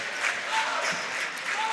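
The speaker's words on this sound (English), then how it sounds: "Hedgesville crowd trying to get them into it." A home crowd cheers and claps steadily at a Hedgesville High School boys basketball game against Spring Mills, a dense, close roar of applause filling a gym.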